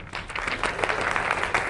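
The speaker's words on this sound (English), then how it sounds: "Round of applause." A women's summit audience claps steadily and densely, a continuous wash of hands at moderate loudness with no voices over it.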